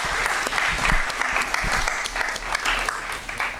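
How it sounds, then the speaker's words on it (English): A round of applause at a school district governing board meeting for the Team Starbucks volunteers, dense steady clapping from a seated crowd that continues throughout. "So let's give Team Starbucks a round of applause."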